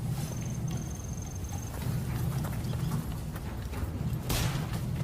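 Horse hooves clip-clop at a steady walking pace in the video game Rise of the Ronin, moderately close and continuous, with no talking.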